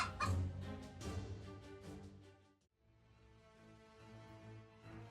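A domestic hen defending her chicks from a cobra gives loud, agitated clucks and harsh calls close by. After a brief pause, quieter clucking resumes.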